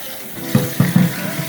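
Water from freshly cooked ramen noodles is drained in a kitchen sink, giving a short close rush of splashing water with a few quick surges over about a second.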